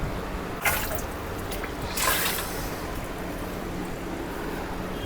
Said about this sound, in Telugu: వాటర్ అయితే ఇప్పుడు ఫిల్ చేసుకుందాము